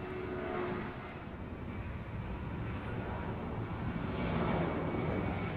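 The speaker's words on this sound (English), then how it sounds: "here's a 757 departing on runway 3R" A Boeing 757 departs on runway 3R at Detroit Metro Wayne County Airport, a broad, continuous jet roar that holds steady and swells slightly toward the end, heard from a distance.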